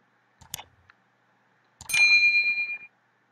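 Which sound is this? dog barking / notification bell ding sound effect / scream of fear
notification bell ding sound effect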